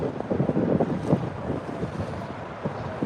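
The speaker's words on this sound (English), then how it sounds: "It's gonna be super windy here because I'm on the upper concourse level" Gusty wind buffets the microphone on the upper concourse of an NFL stadium during an NFC title game between the 49ers and Eagles, a steady loud low rumble with no talk.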